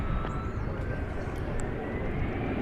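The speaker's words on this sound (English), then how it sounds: "Spirit Flight 542 coming in from Phoenix next." A Spirit Airlines Airbus A321 arriving from Phoenix, its engines giving a steady, broad roar that holds evenly throughout, with a faint whine above, recorded outdoors at an airport.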